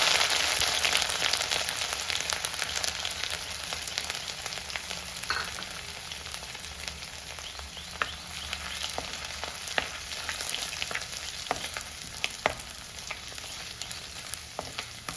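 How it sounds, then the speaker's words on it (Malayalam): Chopped ginger, garlic and dried red chili frying in oil in a pan for a Kerala-style tomato curry, a steady close sizzle with scattered crisp pops and occasional stirring scrapes, no speech. "ഇഞ്ചി കൊത്തി അരിഞ്ഞത് ചേർത്ത് നന്നായിട്ട് ഇഞ്ചി മൂത്ത് വരണം"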